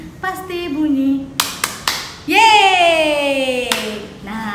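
A few quick hand claps made with five fingers ring out, sharp and close, between stretches of singing voices.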